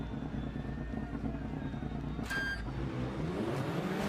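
Rallycross cars in the FIA World RX esport race launch off the start at Barcelona, a loud, dense layered engine roar that rises in pitch as they accelerate, with a short high whine partway through.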